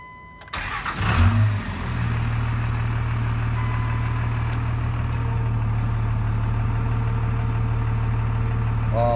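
A Cummins diesel swapped into a Jeep XJ fires up after its codes are cleared, with a short cranking burst then a steady, even diesel idle that holds close and loud to the end.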